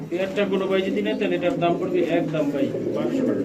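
Pigeons coo steadily at a pigeon farm, a dense overlapping murmur of many birds close by, with people talking over it throughout.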